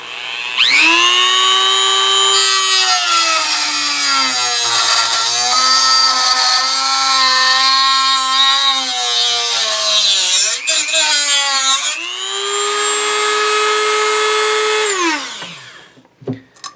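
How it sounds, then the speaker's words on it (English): A Dremel EZ Lock metal cutting wheel cuts into wood with a loud, sustained high-pitched whine that shifts in pitch as it bites and eases, dropping briefly before a second steady stretch, then winding down. "these cutting wheels will cut wood"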